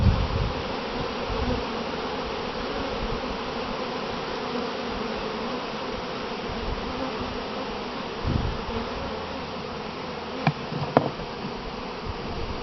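A dense swarm of honey bees buzzes steadily around a beekeeper working an open hive, a continuous close drone with a few sharper individual bee passes near the end.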